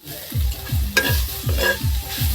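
Gourd leaves, coriander leaves and a dried red chili fry in hot oil in a kadai, a soft sizzle under quick, regular scraping strokes of a spatula repeating several times a second, close up.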